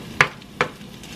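Cheddar hash browns with onions frying in a small pan, a steady sizzle broken by two scraping stirs of a utensil, close up with no talking.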